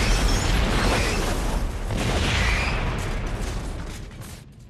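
Big movie explosion as a runaway bus slams into an airplane, a loud sustained roar and rumble that swells, surges again midway, then slowly fades.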